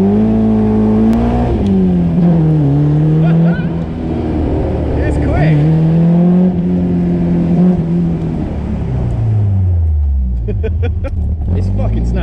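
Car accelerating on the A46 road, its engine note rising and falling through the gears with a responsive throttle, loud and close from inside the cabin, with people talking over it.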